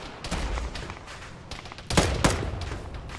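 Gunfire in the military shooter Arma during a ShackTac squad session, scattered distant cracks and pops rising to two louder close shots near the end.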